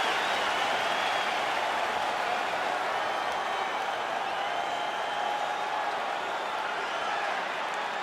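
The arena crowd in the UFC 5 video game gives off a steady, continuous roar of cheering and clapping, with a commentator's voice over the top.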